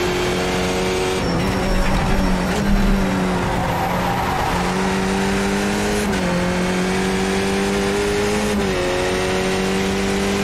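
A Skip Barber race car in the iRacing sim leaves the start at Long Beach, its engine note climbing and dropping through several gear shifts, loud and steady, with faint tire squeal and no talking.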